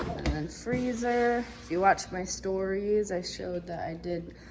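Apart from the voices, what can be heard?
No everyday noises stand out.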